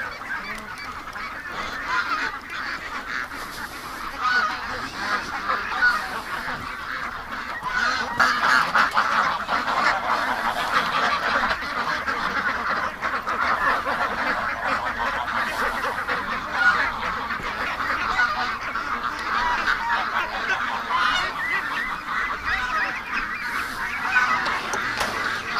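A flock of hungry ducks and geese honk and quack continuously in a dense, loud chorus outdoors in the rain, with overlapping calls close by.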